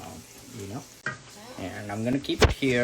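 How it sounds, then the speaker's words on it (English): Coconut and mixed nuts sizzle and fry in a pan for chiwda, a soft continuous crackle with stirring, under a voice talking nearby. "I have the coconuts frying. I have the nuts, all kind of the nuts frying in."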